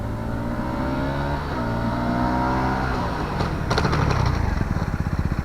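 A Malaguti Drakon 125 motorcycle revs up through rising engine tones, drops pitch as it slows hard under braking, then settles into a close, pulsing low engine chug, with no voices.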